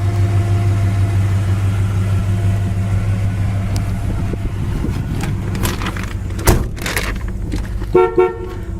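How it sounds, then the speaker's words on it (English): Horn of a 1964 Chevy Chevelle convertible gives a couple of short, loud toots near the end, preceded by a steady low rumble and some clicking and handling noises inside the car. "Horn works."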